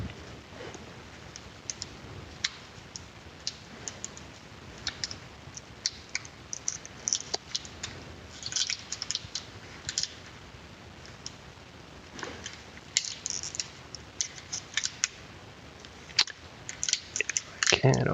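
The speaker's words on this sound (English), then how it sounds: "open up a whole bunch of booster packs all at once" Magic: The Gathering War of the Spark booster packs are handled and opened, with scattered sharp crinkles and clicks of foil wrappers under a faint background, growing busier toward the end.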